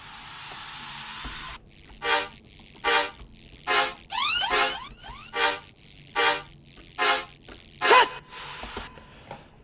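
Layered bass-music drop from a track, with undercarriage synths hitting in about nine evenly spaced rhythmic pulses, some with sweeping pitch bends, loud and alone after a brief quieter lead-in.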